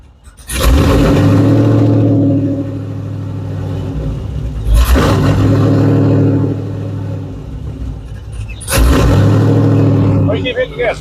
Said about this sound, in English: Why you keep hitting the gas for?